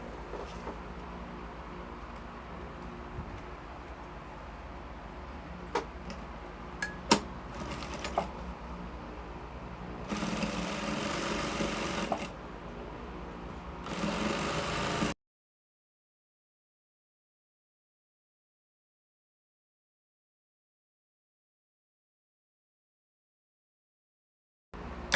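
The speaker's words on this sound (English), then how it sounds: "and then you are going to top stitch." A sewing machine topstitches bias binding on a puff sleeve, with faint mechanical clicks followed by a few seconds of steady, close running hum. The hum stops abruptly and long silence follows.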